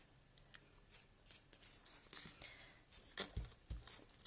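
Scissors cutting delicate folded paper for a scrapbook banner, faint close snips and rustles scattered through a quiet room.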